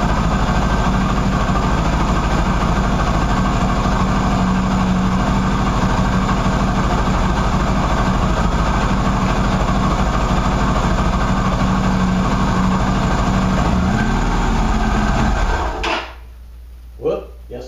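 A Qlink QBK 250 Adventure motorcycle idles loudly after sitting, a steady engine drone with a whiny tone and a brief rev before it cuts off near the end, followed by a few faint knocks.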